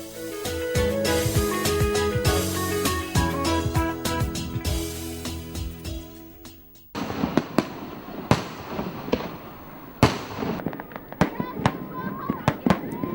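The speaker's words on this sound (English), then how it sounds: "With fireworks lighting up the sky in a zillion different colors" Fireworks burst over the Lancang River at night during a Dai ethnic celebration in Yunnan, a dense run of crackling pops and booms that thins after a few seconds into scattered loud reports, with crowd voices in the background.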